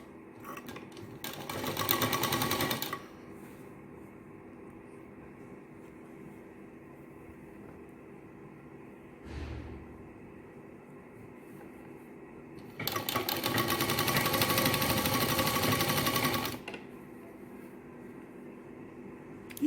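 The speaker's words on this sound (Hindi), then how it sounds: "ऐसे फोल्ड करके थोड़ा थोड़ा कपड़ा और एक सीधी सिलाई हम यहाँ से लगा लेंगे।" A sewing machine runs a straight seam through folded salwar fabric in two close, steady bursts of whirring stitching, a short one early and a longer one later, separated by quiet room tone and a brief soft knock.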